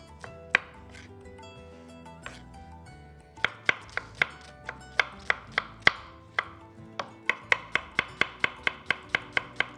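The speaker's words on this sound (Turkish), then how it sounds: "Ben hemen şuradan bir tane soğanımı minik minik doğrayacağım." An onion is chopped finely with a knife on a cutting board in a kitchen: a brisk run of sharp, close knife taps that speeds into a steady rapid rhythm, over a faint background hum.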